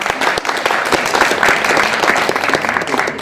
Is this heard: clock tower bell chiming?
no